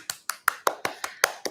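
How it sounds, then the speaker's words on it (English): A handful of sharp, evenly spaced hand claps, about seven in quick succession, close and dry, from a small round of applause with no crowd behind it. "Give him a round of applause."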